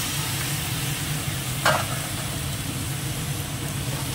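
Vegetable curry of sweet potato, kochu stems, pumpkin and potato, with ginger paste, cumin and turmeric, fries in a pan with a steady close sizzle. A brief scrape of stirring cuts through midway.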